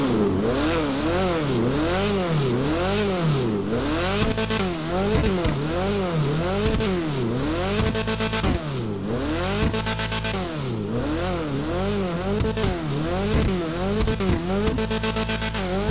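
A customized Annis ZR350 in a racing game revs repeatedly, its engine climbing and falling in rhythmic waves close and loud, with a brief spoken line slipped in over the sustained roar.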